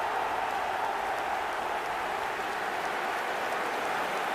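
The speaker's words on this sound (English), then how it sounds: "Even some of the opposing fans are clapping that." Steady, dense applause from a stadium crowd after a goal in an eFootball match, a continuous hissing wash of clapping that holds an even loudness throughout.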